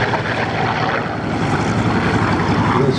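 Hawker Sea Fury piston-engined propeller fighter at a Duxford flying display, a loud, steady engine roar with a throbbing propeller drone as it passes close by.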